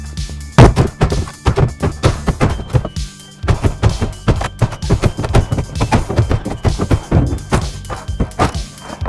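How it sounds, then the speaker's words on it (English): Clapboards being ripped off a garage wall, with dense, irregular thumps, knocks and cracking wood strikes coming in quick bursts, close and loud, and no one speaking. "And off come the clapboards."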